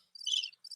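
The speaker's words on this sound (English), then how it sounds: "that's the crickets. It's crickets, unfortunately." Crickets chirp in short, high, trilling bursts, two pulses close together with a brief gap, faint and alone, used as a comedic silence sound effect.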